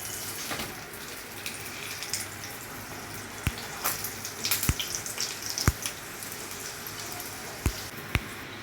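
Methi leaf parathas frying in oil on a griddle, a continuous soft sizzle with scattered sharp pops and crackles, close and fairly quiet.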